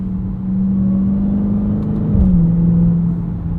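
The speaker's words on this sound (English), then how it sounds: "Some of the shifts in sport mode are a little bit harsh." A Dodge Charger Hellcat Widebody, 2023 Jailbreak, drones at a steady low engine note from inside the cabin, then the pitch drops with a brief jolt as the transmission shifts abruptly in sport mode.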